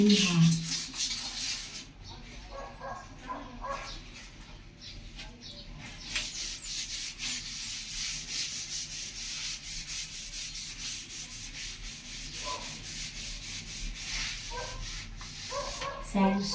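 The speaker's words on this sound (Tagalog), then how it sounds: "So, gamitan ng liha." Sandpaper is rubbed against hardened soap, giving a continuous close-up rasping scrape with quick back-and-forth strokes.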